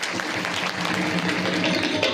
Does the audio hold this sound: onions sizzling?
no